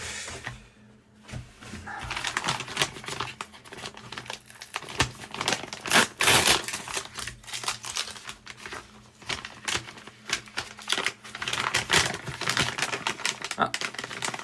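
Paper envelope being torn and opened during an unboxing of ordered gold and silver pieces, with dense crinkling and tearing noises running continuously, close and fairly loud, with brief sharper rips.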